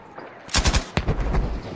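Sharp bursts of gunfire and a booming blast in Battlefield V, loud and close, with a rumbling tail after the second impact.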